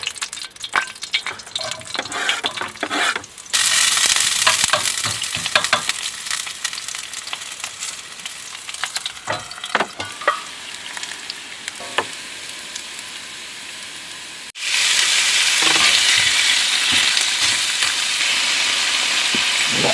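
Shallots sizzle in a pan as they are stirred, in a cooking setting inside a van. Scraping, clattering stirs run over a hiss that jumps sharply louder twice, with no talk.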